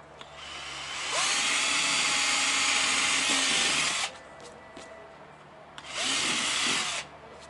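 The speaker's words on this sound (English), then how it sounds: "drill this top hole first" Cordless power drill boring a hole in a shed workpiece, two loud sustained bursts of whirring separated by a short pause, close up and without talk.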